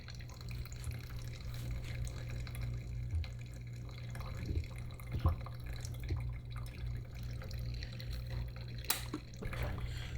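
A Moccamaster drip coffee maker lets coffee trickle out in faint, irregular drips over a low steady hum, with an occasional sharper tap.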